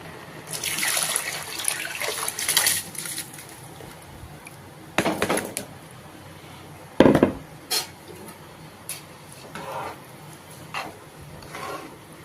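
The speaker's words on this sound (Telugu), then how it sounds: "ఓకే ఆబాయిల్ అయిపోయిందండి ఇప్పుడు బియ్యం వేసుకుందాం" Rice goes into boiled moong dal water in a pot for Chennai-style pongal, with scattered splashes, pouring and metallic clinks of utensils against the pot between quieter stretches.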